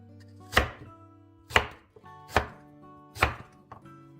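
A knife chops pumpkin into small pieces on a board, four sharp, evenly spaced thuds about a second apart with a lighter tap at the end, close and clear.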